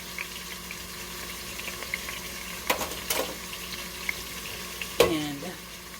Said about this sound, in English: So I'm going to just sear it.